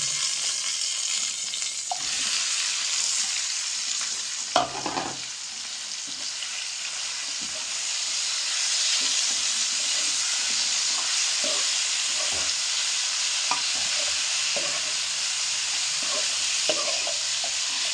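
Marinated chicken sizzling and frying in a pan for palak chicken, with steady close hiss and crackle and repeated stirring scrapes throughout, no talk.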